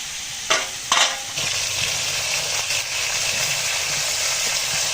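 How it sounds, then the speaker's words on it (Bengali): Chicken pieces fry in a pan with a loud, steady sizzle after two sharp clatters of a spatula, followed by ongoing stirring. "মাংসগুলো আগে একটু হালকা করে ভেজে নেব"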